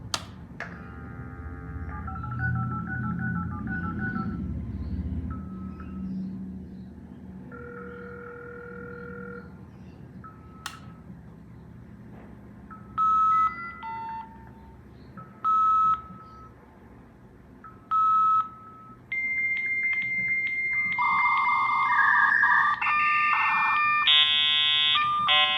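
An Avtek Flash Modem 288 V.34, model CD1500M, dials and connects: rapid DTMF tone bursts, short beeps, then pulsing handshake tones and a rising screech of negotiation noise, loud and alone with faint background hum.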